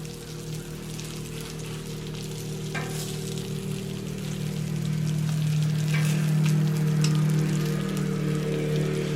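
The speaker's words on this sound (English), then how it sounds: "You can see my butter is getting brown, which adds a nice little flavor to it." Butter sizzles and browns in a pan while ribs are cooked, a steady crackling fry that grows louder partway through, with occasional sharper pops and no talk.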